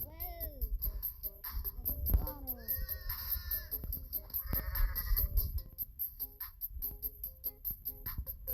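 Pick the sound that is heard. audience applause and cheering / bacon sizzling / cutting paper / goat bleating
goat bleating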